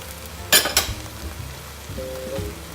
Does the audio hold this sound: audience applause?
no